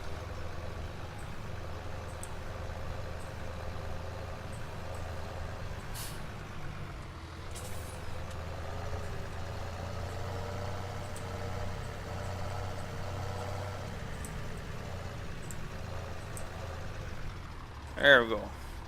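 A truck engine idles steadily in Farming Simulator 17 with a low, constant drone. A sharp air-brake hiss sounds near the end, and a voice talks over part of it.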